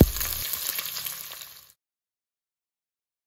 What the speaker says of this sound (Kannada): ಕಾಲು ಸ್ಪೂನಷ್ಟು ಸಾಸಿವೆ ಆರು ಎಸಳು ಬೆಳ್ಳುಳ್ಳಿ ಎರಡು ಒಣಮೆಣಸು ಎರಡು ಎಸಳು ಕರಿಬೇವು ಹಾಗೆ ಒಂದು ಈರುಳ್ಳಿನ ಹಾಕಿ ಫ್ರೈ ಮಾಡಿಕೊಳ್ಳಿ